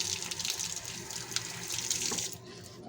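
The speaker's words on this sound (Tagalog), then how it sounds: "Hugasan muna natin tong kahoy. Ito yung ang cinnamon." Running tap water streams steadily into a sink as cinnamon sticks are rinsed beneath it for a chicken dish, a close continuous splash that cuts off near the end, leaving a quiet room.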